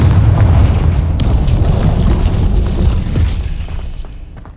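Confringo spell explosion in Hogwarts Legacy, a single heavy, loud boom that rumbles and then slowly fades over several seconds, with no talking.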